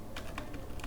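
A few keystrokes on a keyboard as text is typed into a file in vim, three or four soft separate clicks close by over a low background hum.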